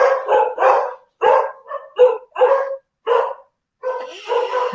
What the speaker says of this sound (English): now my dogs are going to bark.